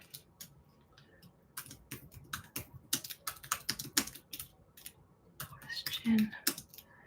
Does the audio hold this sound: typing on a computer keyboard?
yes